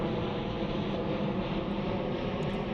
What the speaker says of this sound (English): another big jet coming